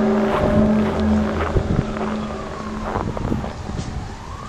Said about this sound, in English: There's sirens out too.